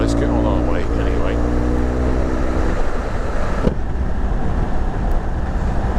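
A BMW R1200GS motorcycle fitted with a Remus exhaust rides along, its steady engine drone and exhaust note loud and close throughout, with wind noise and a shift in tone partway through.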